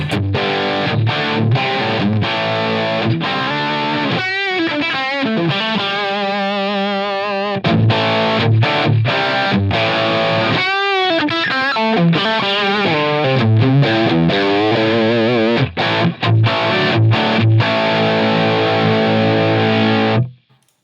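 Heavily distorted electric guitar through a Line 6 Helix Brit 2204 amp model based on the Marshall JCM800, loud sustained chords and riffs with rhythmic chugging and ringing notes, played alone for about twenty seconds before cutting off.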